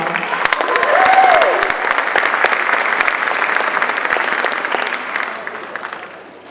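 Sustained audience applause rings out for students at an RMT awards ceremony, a thick, even roar of many hands that holds steady for several seconds before tapering off toward the end.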